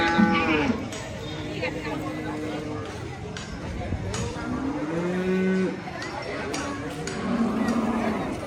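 Cattle at a Maattu Pongal festival in Jaffna moo again and again, several long lowing calls close by, over a busy crowd murmur and voices.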